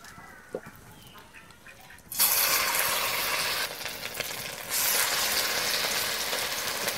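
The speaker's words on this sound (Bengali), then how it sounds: "আমি এবার বড়াগুলো দিয়ে দেবো তেলের মধ্যে" Rice fritters with prawns go into hot oil in a heated kadai: after a quiet start with a few small knocks, a loud, steady sizzle bursts in and keeps crackling, swelling again a few seconds later.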